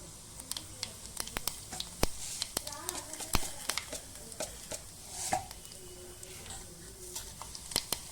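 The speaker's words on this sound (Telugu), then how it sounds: "ఆవ జీలకర్ర పొట్టపొట్ట అన్నప్పుడు" Mustard seeds and cumin spluttering in hot oil, giving rapid scattered pops and crackles over a soft sizzle, with light stirring and faint talk in the background throughout.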